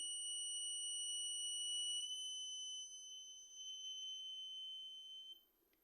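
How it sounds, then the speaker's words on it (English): An electronic buzzer holds a steady high-pitched tone, growing quieter after a few seconds as a potentiometer raises the circuit's resistance, then cutting off near the end. "As you can hear, the buzzer is on."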